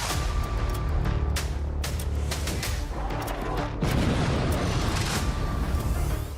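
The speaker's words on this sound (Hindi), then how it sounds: "आईएस के ठिकाने पर हवाई हमला।" A sustained roar of heavy airstrike blasts and rumbling booms on an ISIS position, loud and continuous, with sharp cracks punctuating a dense low-frequency din.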